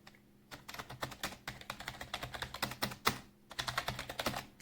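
Rapid clicky typing on a RedThunder K20 wireless keyboard, close up, with dense bursts of key presses and a couple of brief pauses, no voices.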